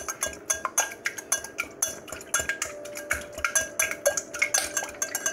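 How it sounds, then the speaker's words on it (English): A utensil stirs scrambled eggs in a pan on a hot stove, making quick, repeated metallic scrapes and clinks at an irregular rhythm, close and fairly clear with no talking. "You want to stir the eggs?"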